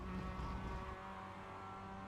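A race car in the iRacing simulator accelerates at Okayama International Circuit, its engine drone steady and loud with layered harmonics, heard alone without talk.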